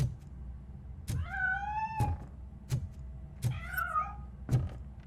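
A cat meowing in RoboCop: Rogue City: two clear, drawn-out meows sound close by, with sharp thuds and knocks spaced through the quiet scene.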